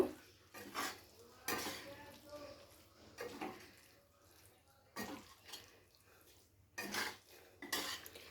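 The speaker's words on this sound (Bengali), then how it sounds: "লেবুর রসটা দিয়ে খুব ভালো করে মিশিয়ে নেব" Spicy chicken garlic roast tossed with lemon juice in a pan off the heat: quiet, irregular bursts of spoon scraping and clinking against the pan, separated by short near-silent gaps.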